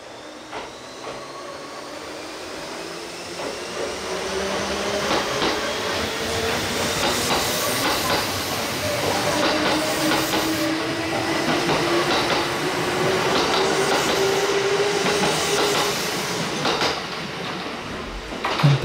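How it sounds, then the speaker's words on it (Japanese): A Kintetsu local train pulls away from Tsuruhashi station, its motor tone rising steadily in pitch as it accelerates, with wheel clatter and hiss building loud and close throughout. "この車両の加速音は素晴らしいです。"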